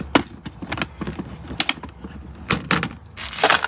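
Hands rummage through a bin of small hardware, giving continuous clinking, rattling and scraping of metal parts at close range, with no talking.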